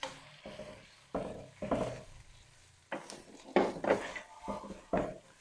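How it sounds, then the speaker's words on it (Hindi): Cabbage, capsicum and carrots stir-fried for a chicken chow mein, heard as bursts of scraping and tossing in a pan between short quiet gaps, close and moderately loud. "स्टर फ्राई कर लें।"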